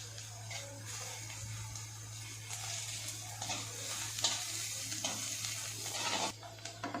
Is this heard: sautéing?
yes